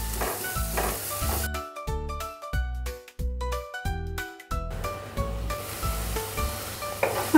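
Two finely chopped tomatoes with onion sizzle and crackle in a pan, a soft frying hiss broken up by clanking and scraping of a utensil stirring against the metal.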